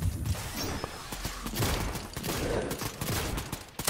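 Rapid gunfire crackles in a video game, dense bursts of shots and thuds rattling continuously, loud and close, with no speech.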